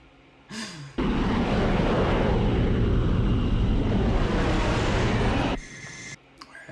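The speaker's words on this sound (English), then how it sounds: "so we got 3 planes." Jet fighter planes roar past in a scene from the 1986 film Top Gun, a loud, steady, broadband rush that cuts in abruptly, holds for about four and a half seconds, then drops away sharply.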